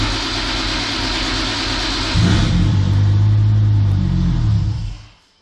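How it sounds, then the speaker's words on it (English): A Toyota Supra MkIV engine turns over and catches, then revs up into a loud, steady rumbling roar before cutting off abruptly. "So let's start the car."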